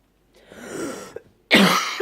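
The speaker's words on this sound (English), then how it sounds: "I'm sorry for the coughing" Two harsh, wet coughs from a person with a lung infection, a drawn-out rasping one followed by a sharper, louder burst, close up in a quiet room.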